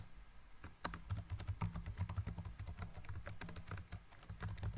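Keys clatter in quick, uneven bursts on a computer keyboard while someone types code, the clicks close and steady throughout with no voice.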